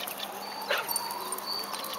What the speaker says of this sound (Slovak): Tam ide ďalší pes.